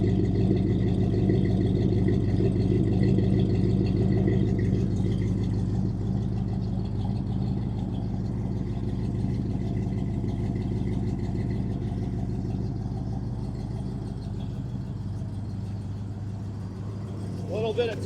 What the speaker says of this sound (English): The exhaust just sounds awesome.